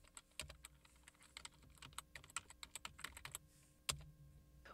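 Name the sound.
typing a folder name on a computer keyboard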